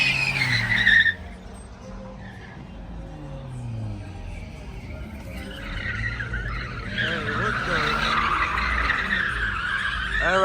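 Car skidding at a street car meet on Whittier Blvd: a brief loud burst of tire noise, then sustained screeching and engine revving building from mid-distance, with excited voices shouting over it.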